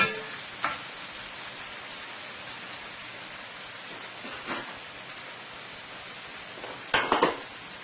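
Chicken for wraps cooks in a frying pan with a quiet, crackly sizzle, a few sharper pops and spatters rising now and then above the soft background.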